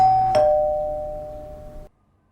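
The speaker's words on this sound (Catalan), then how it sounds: "Picaré a un timbre qualsevol." A doorbell rings once with a clear two-tone ding-dong that hangs and decays for over a second before cutting off.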